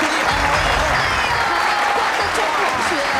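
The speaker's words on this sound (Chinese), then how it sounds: "大家给她点掌声鼓励吧！" A studio audience at a Taiwanese variety show applauds a young judo player, dense, steady clapping throughout with crowd noise and a few voices underneath.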